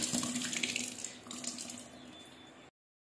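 Water runs steadily from a tap as a cloth is wetted for covering basil leaves, close and moderate in level, then stops abruptly near the end.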